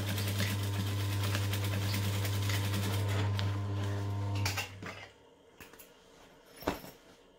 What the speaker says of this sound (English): you just want to stitch the gap